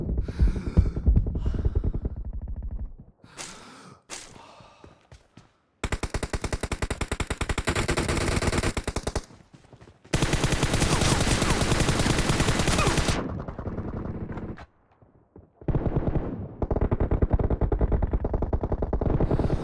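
Automatic gunfire in a PUBG Mobile arena match: loud, rapid bursts in several long stretches, broken by brief pauses and single shots, with no talking.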